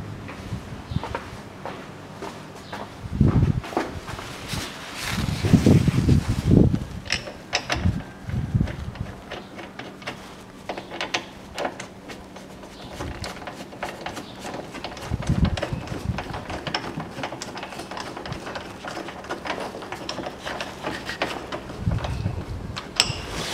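Tools ratchet and clank while new bolts are tightened on the front stabilizer bushings of a 2014 Range Rover Sport 3.0 with an aluminium subframe, irregular close mechanical clicks and knocks among scattered handling noises, no talking.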